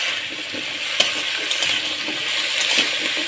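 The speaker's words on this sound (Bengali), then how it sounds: "একটু ভাজা ভাজা করে নিই" Fish and vegetables frying in a pan on a gas stove, a steady close hiss of oil with faint clicks and stirring touches throughout.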